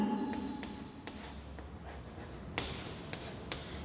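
Pen or chalk scratches out handwritten Hindi text in short strokes and pauses, quiet and close, with a faint hum behind it.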